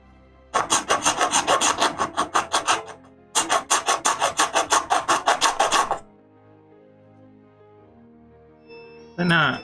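Metal file rasping across a coconut shell in two long runs of quick, regular back-and-forth strokes, each burst loud and scratchy, separated by a short pause and followed by quiet with a brief scrape at the end.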